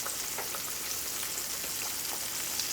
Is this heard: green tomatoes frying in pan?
yes